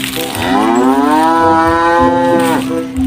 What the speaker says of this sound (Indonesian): Wah, di sini ada suara kerbau teman-teman.